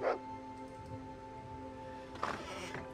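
Dogs barking in the video game Fallout 2: a sharp yelp right at the start and another short burst of barks near the end, moderately loud over a steady tonal game background hum.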